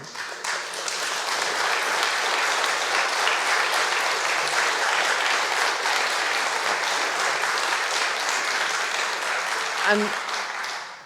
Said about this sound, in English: dear friends who've just clapped me